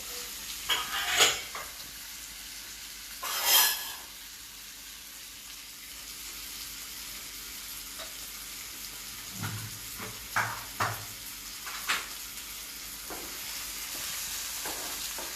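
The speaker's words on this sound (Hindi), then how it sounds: "तो टमाटरों को मिक्स कर लेंगे, थोड़ा सा गल जाएगा हमारा टमाटर" Soft sizzling of tomatoes in a pan with occasional stirring scrapes and a few spoon clicks, quiet and close, no talking.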